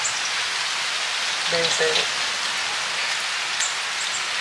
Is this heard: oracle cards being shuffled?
no